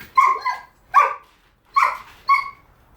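A dog barks four times close by, short sharp barks spaced unevenly with brief silences between.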